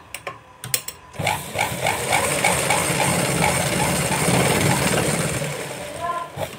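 A sewing machine stitches fabric in a tailoring lesson, a steady rapid mechanical whirr with rhythmic needle clicks running continuously after a short start, close and fairly loud.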